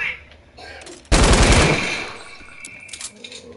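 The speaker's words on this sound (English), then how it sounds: "Where is that shooting coming from? I thought somebody was shooting." A sudden loud burst of rapid automatic gunfire erupts in a PS4 shooter game, a dense rattling volley that tails off into fainter scattered shots.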